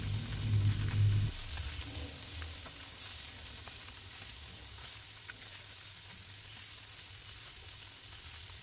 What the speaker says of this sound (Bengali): আমি এগুলো এখন তাওয়াতে ভেজে নেব